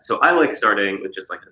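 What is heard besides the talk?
No everyday noises stand out.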